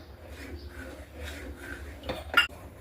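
A spoon stirs a custard-powder mixture in a pot for fruit custard, making soft scraping strokes against the metal that end in a sharp clink near the finish.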